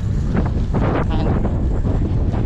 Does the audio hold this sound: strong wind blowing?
yes